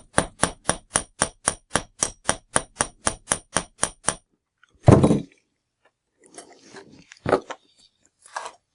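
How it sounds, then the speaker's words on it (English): About sixteen quick, evenly spaced metallic hammer taps on wire for rectangular earrings, close and sharp, then a pause followed by a few scattered knocks and handling sounds. "I hammer it."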